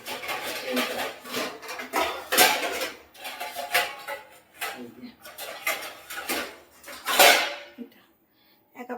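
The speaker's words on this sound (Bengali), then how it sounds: "সেটা একেবারে ধুয়ে নেবো যে কারণে গামলি খুঁজছি" Pots, pans and metal utensils clatter and scrape in a home kitchen while someone rummages for a basin to wash chicken, with repeated knocks and a loud clang near the end, under occasional talk.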